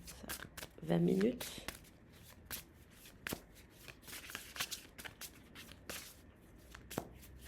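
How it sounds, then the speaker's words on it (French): Tarot cards being shuffled by hand, with a brisk riffle of crisp card flutters followed by scattered soft slaps and shuffles, close up while someone talks over them. "Je vous ajoute quelques tarots et je clôture le tirage."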